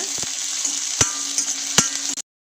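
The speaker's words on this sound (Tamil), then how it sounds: "சேர்த்துட்டு எல்லாத்தையும் நல்லா எண்ணெயிலே நல்லா வதக்கி விட்டுக்கோங்க" Urad dal, garlic and ginger frying in oil in a pan as they are stirred, a steady sizzle with a few sharp clinks of the spoon, ending abruptly.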